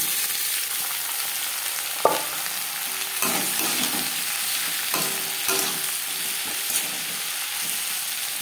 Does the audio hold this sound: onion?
yes